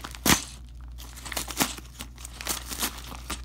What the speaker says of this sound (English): I can tear it open